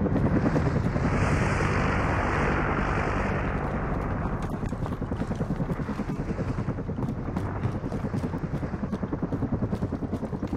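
A helicopter in the video game Call of Duty: Modern Warfare, its rotor beating in a loud, rapid, steady chop close by, layered over a roaring engine rush that eases after the first few seconds.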